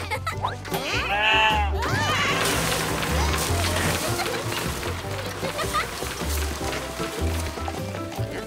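Sheep bleat in a children's cartoon about a tractor adventure, a few wavering bleats rising clearly early on over a busy, steady cartoon soundtrack.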